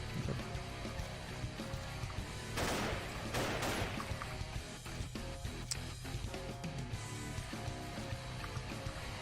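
Gunfire from the video game Paranoia, with a dense, loud burst of rapid shots around the middle over constant game music and sound effects.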